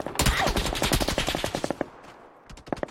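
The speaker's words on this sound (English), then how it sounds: "The MG is fucking getting me." Rapid machine gun bursts ring out in a ranked online shooter match, loud, dense strings of shots with a short pause and then a few more rounds, no talking over them.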